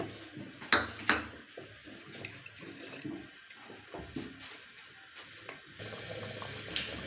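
A spoon stirs flour into a mutton kunna in a pot, giving repeated metallic scrapes and clinks against the pot in an uneven rhythm, close and fairly quiet, with a faint watery wash behind.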